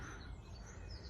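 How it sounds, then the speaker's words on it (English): Faint birds singing at dusk in a cottage front garden drift over a steady low background hum, distant and quiet. "Coming and hearing the birds singing before they go to bed."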